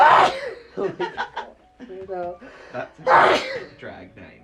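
A sharp sneeze bursts out amid casual chatter and laughter among several people, followed by more talk and another explosive sneeze-like burst.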